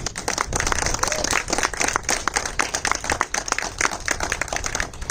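A dense, continuous wash of audience applause at an Independence Day celebration stage show in a housing society, many hands clapping at once, steady and fairly loud throughout.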